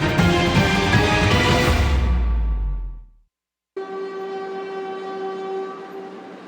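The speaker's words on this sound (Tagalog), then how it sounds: "Ito na ang mga huling tren na aalis mula dito sa makasaysayang PNR Tutuban Station sa Maynila." A train pulls out of the historic PNR Tutuban Station in Manila, a loud rumbling mass of rail noise that fades to near silence, then a steady tonal hum of another train or horn rises and holds, with no talk.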